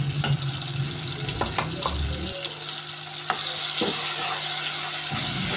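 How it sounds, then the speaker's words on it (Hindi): A spoon stirs turmeric and other spices in a hot pan for a dhaba-style egg masala, a steady close sizzle broken by light scraping clicks of the spoon. "इन सब अज्जा को हम चम्मच के साथ अच्छी तरह मिक्स कर लेंगे, हिला लेंगे।"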